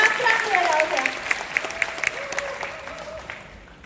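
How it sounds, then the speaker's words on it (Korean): An audience at a Korean business leaders' gathering claps in a steady, even rhythm while voices speak over the claps, which thin out toward the end. "큰 박수 부탁드리겠습니다"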